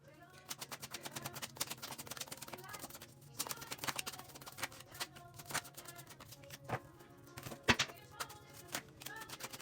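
Quick, irregular riffling and tapping of cards being shuffled by hand, close and soft, with crisp flicks in bursts.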